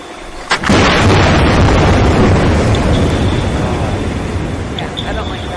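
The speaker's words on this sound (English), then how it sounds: "this is a seismic air gun survey with echo sounders." Underwater recording of a seismic air gun survey with echo sounders: a loud, sudden boom that rolls into a long reverberant rumble, with faint high pings from the sounders recurring in the tail.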